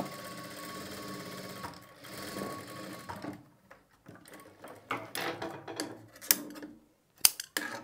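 A sewing machine stitching single piping, a close run of whirring bursts broken by pauses, clicks and mechanical knocks as the fabric is adjusted between stitches.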